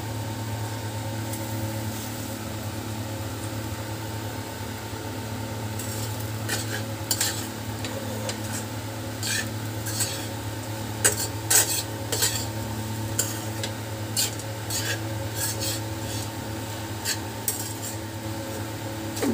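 A spoon stirs chapati chaat with fried peanuts in a pan over a low background sizzle, sharp metallic scrapes and clinks growing more frequent and irregular toward the end, close and alone.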